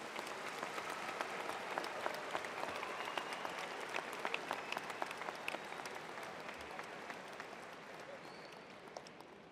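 An audience at a May 2015 commencement ceremony claps after the address, a steady, dense patter of many hands that sounds fairly distant and quiet and tapers off slightly toward the end.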